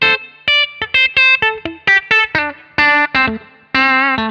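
Twangy, country-flavoured clean tone from the bridge pickup of a Paoletti Nancy Loft guitar, Telecaster-style: a run of distinct picked notes and short chord stabs with gaps between them, close and loud, no talking.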